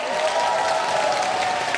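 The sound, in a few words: audience applause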